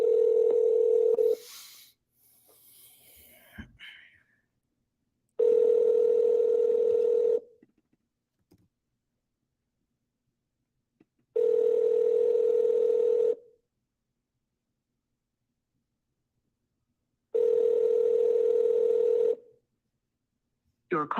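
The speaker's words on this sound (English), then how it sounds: "And I'm going to be triple dialing today." Four loud, evenly spaced bursts of a steady telephone dialing tone, each about two seconds long with silent gaps between, from a phone redialing the same call several times.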